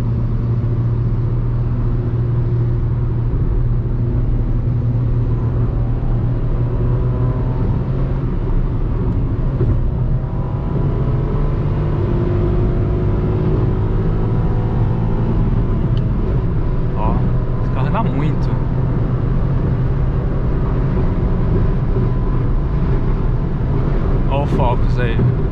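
A 2020 Ford Ka Sedan SE 1.5 manual accelerating on a highway, a loud steady engine drone with tones climbing as it speeds up, heard from inside the cabin while a person talks over it.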